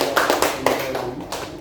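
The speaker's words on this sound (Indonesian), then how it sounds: "Ya, tepuk tangan untuk kelompok 5 ya." A short burst of group applause rises in a training-room session on AI tools, a few loud, close claps over a brief span.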